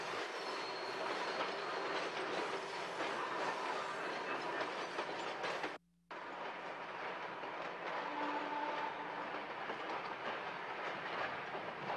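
A Broad Street subway train runs on its rails, with a steady loud roar of wheels, rhythmic clickety-clack and faint wheel squeal, broken by one brief gap midway.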